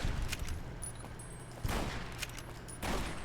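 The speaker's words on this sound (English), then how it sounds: "Are you throwing grenades?" Grenade explosions in Fallout New Vegas, a few sharp bursts with noisy rumbling tails spaced about a second apart, moderately loud amid game ambience.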